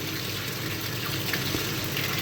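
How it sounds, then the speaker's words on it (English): The outlet tank of a Bernoulli's theorem apparatus fills with water, giving a steady, close gushing and trickling rush that runs without a break and with no voices. "We have the outlet tank starts to fill with water."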